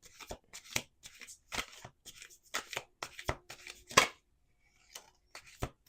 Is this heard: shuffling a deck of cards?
yes